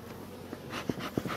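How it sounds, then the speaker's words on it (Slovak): Honeybees hum in an open beehive while they sit on their stores, a soft low buzz with a few brief louder thuds and movements nearby. "Vidíme, že včely sedia na zásobách"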